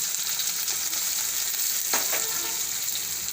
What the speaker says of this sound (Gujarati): ગેસ થોડોક ધીમો પણ નાખીશું તો ડુંગળીને આપણે ઘડીક વાર તેલમાં સડવા દઈશું